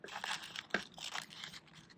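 Scissors snip through a fringe of paper to make confetti, with quick crisp cuts and light papery crinkling, close and quiet with no talking.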